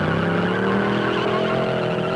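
Supercharged Studebaker Avanti II with a 327 Chevy engine launching hard from a standstill after a popped clutch, loud engine roar with squealing wheel spin, close and continuous, no talk.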